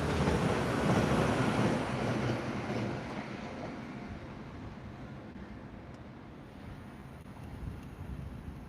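Train pulling in within the RB Rail game, a broad steady rumble that is loudest at first and gradually settles to a quieter rolling hum, with no talking.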